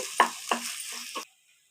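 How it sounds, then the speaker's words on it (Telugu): Gongura leaves and spices sizzling in a hot pan, with a few quick scraping stirs close by before the frying noise cuts off abruptly. "గోంగూర వేసి ఒకసారి కదుపుకొని ఇప్పుడు ఇందులో మసాలాలన్నీ వేసుకున్నాము"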